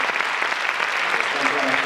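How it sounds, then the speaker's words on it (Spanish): An audience at the opening of a disability awareness week applauds healthcare and support professionals, a steady, dense wash of many hands clapping that carries on evenly throughout. "pediría en ese reconocimiento un fuerte aplauso para todos los profesionales que están trabajando"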